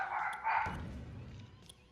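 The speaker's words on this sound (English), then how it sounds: "Please ignore the barking puppy." A small puppy barks and yips near the microphone, a few quick sharp calls in the first half followed by quieter whimpering noises amid room background.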